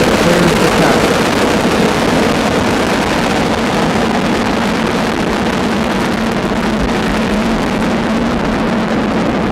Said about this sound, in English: Ignition and liftoff. Atlantis begins another space voyage as it clears the tower.